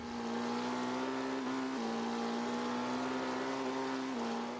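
A Mitsubishi Evo 8 drift build in Forza 5 drones with a steady, loud engine note that holds a near-constant pitch, with slight dips and rises as the throttle shifts.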